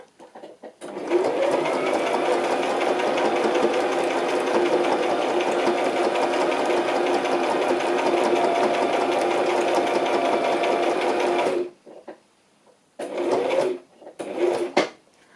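A home sewing machine runs steadily for about eleven seconds of continuous close stitching with a whirring motor hum, then stops, followed by a few short bursts of stitching.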